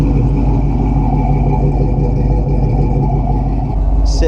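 A 1969 Buick Special Deluxe engine idles loud and close, with a steady, even rumble. No clear rise in revs stands out over the continuous drone.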